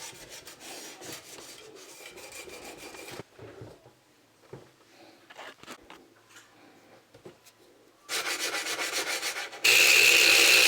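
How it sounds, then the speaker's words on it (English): A sonic scrubber works Astonish cleaning paste over a surface with faint, intermittent rubbing at first, then swells into a loud, continuous buzzing scrub toward the end. "I'm just going to get my sonic scrubber and just scrub away."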